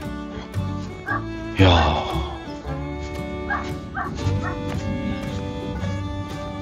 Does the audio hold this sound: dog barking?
yes